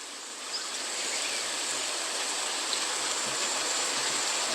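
Steady rain falls continuously outdoors near a forest edge, an even hiss of drops on surfaces with no voices, holding at a constant moderate level throughout.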